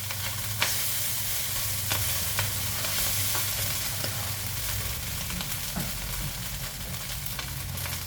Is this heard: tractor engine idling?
no